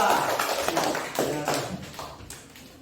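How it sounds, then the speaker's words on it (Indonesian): A classroom of students gives a group a brief round of clapping, a dense patter of hand claps that fades out within a few seconds. "kita tepuk tangan dulu untuk kelompok 2"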